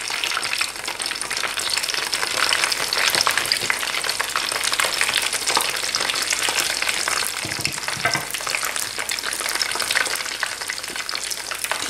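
Chicken spring rolls (nems) crackle and sizzle steadily in hot oil in a pan, a loud continuous frying hiss with no talking.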